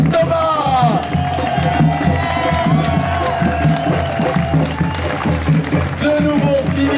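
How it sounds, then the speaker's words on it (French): Outdoor crowd at the finish of the UT4M 180 km ultra trail applauding and cheering two finishing runners, steady clapping with whoops and shouts throughout, dense and close, with voices calling over it. "c'est le moment de faire un tonnerre d'applaudissements pour Kevin et Thomas"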